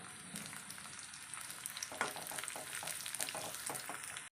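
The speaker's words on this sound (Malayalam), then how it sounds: "കുറച്ച് വറ്റൽമുളക് ഇട്ട് കൊടുക്കാം നമുക്ക്." Chopped shallots and dried red chillies crackle and sizzle steadily in hot oil for a mango curry tempering, a dense close hiss with brief popping bursts and no talk.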